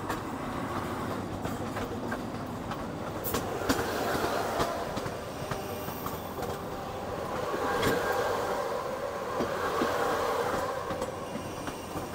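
The 12274 New Delhi to Howrah Duranta Express rolls along in a sleeper coach, a steady close rumble with rhythmic wheel clatter and occasional sharp clicks and squeals that swell and fade.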